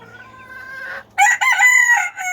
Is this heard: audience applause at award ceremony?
no